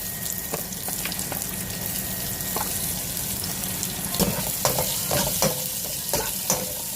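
Onions and ginger fry in a pan with a constant sizzle, punctuated by light scraping and stirring knocks from a utensil, close and fairly loud, with no talking.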